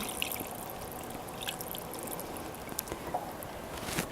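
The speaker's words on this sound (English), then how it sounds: "Then I'm just going to add a little bit of water." Warm water poured from close by into a pan of cooking food, a steady soft trickling and splashing wash that runs continuously for a few seconds with slight sizzle-like hiss.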